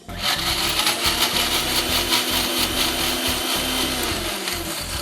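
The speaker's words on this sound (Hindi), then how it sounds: "और करना सिर्फ इतना है कि इसको आपने मिक्सी में पीस लेना है।" A mixer grinder runs loud and steady, grinding roasted vegetables and garlic into a chutney with no water added. It makes a continuous whirring, rattling drone, close and alone, that holds for the full length.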